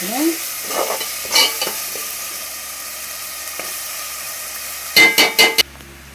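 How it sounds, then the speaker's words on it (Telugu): Ginger garlic paste frying in oil for a chicken gravy curry, a soft close sizzle with occasional stirring scrapes, ending in a short burst of louder clanks and scrapes. "అల్లం వెల్లుల్లి పేస్ట్ కూడా వేగిపోయి ఆయిల్ చూడండి చక్క ఎలా తేలిందో"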